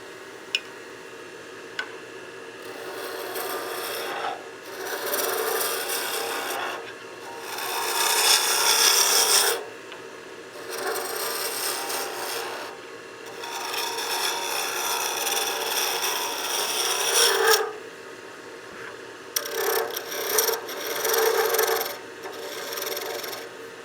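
A rasp files away material at the end of a wooden workpiece in bursts of steady scraping strokes with short quiet pauses between them, close and alone without talk.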